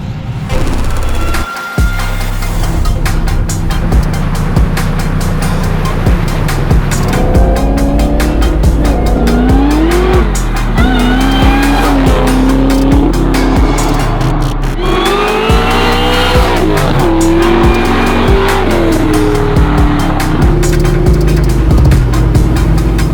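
A 1965 Chevrolet Chevelle sleeper car driven hard, its V8 engine roaring and revving loud and close while tires squeal in long rising and falling screeches, with no talk over it.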